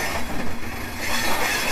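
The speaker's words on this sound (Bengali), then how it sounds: "একদম পিছন দিয়েই ট্রেনটা গেল।" A train rumbles past close behind at a railway station in Delhi, a loud, continuous roar of wheels and carriages with no voices over it.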